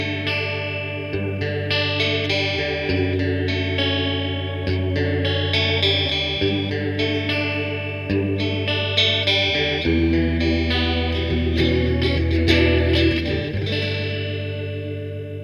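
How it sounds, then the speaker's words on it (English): Electric guitar through a small beginner amp with the chorus effect turned way up, strummed chords shimmering and wobbling in pitch continuously for the whole stretch, fairly loud with some grit and no talking. "So let's turn the chorus up and see what that sounds like."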